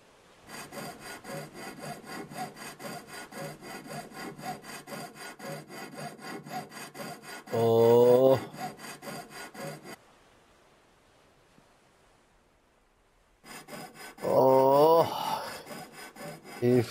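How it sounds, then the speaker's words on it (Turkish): Hand saw cutting through wood in Ship Graveyard Simulator, a steady rasping back-and-forth stroke that runs for about ten seconds, stops for a quiet stretch, then resumes, with a couple of louder metallic clanks mixed in. "Çekiyorum testeremi."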